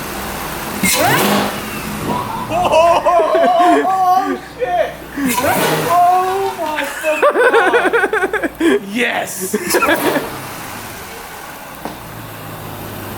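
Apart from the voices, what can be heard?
Chevrolet Camaro ZL1 engine revving with Rotofab intake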